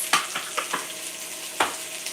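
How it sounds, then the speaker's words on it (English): Beef fried rice ingredients with cabbage sautéing in a hot pan, a handful of quick spatula scrapes and taps over a low sizzle, close and fairly quiet, with no talking. "And I'll just saute it."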